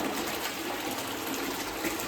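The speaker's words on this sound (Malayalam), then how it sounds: "വെള്ളം ഫില്ലാവുന്ന ഇങ്ങനെയാണ്." Water from a pipe pours steadily into a home fish pond or aquarium, a continuous close gushing trickle with no talking.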